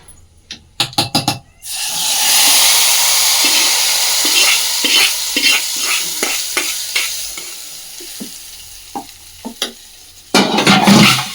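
Tempering is stirred into raw chutney, a sharp burst of sizzling and scraping followed by steady loud frying hiss with irregular stirring clatter, closing with another loud sizzle burst.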